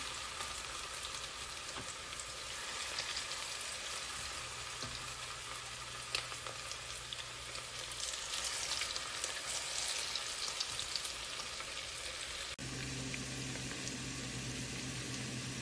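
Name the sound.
deep frying chicken pieces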